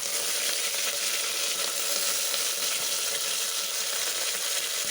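Curry leaves and byadagi chilies sizzle steadily in hot oil while tempering for sambar, a dense, bright crackle filling the whole stretch close up.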